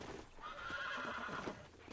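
A horse whinnies loudly with a shrill, quavering neigh while being broken in Red Dead Redemption, with faint hoof clip-clop underneath.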